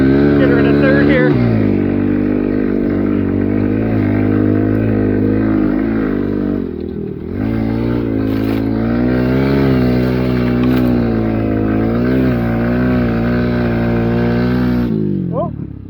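A Kawasaki KLX110 minibike fitted with a Timbersled Ripper snow kit revs hard and loud on snow, its engine note dipping once as it shifts up a gear before pulling steadily again and easing off at the end.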